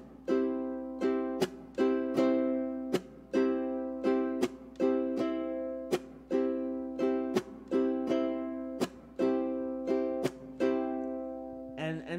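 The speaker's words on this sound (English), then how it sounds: "And that is island strum plus two chucks." Ukulele played in an island strum pattern, with two muted percussive chucks on beats two and four cutting sharply through the ringing chords. The rhythm is steady, close and clear, with no talking.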